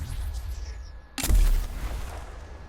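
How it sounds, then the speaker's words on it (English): A missile blast from a weapon in the video game Dauntless: a quiet stretch, then a sudden sharp explosion with a heavy low boom that rings out and fades over the next second. "That's a missile."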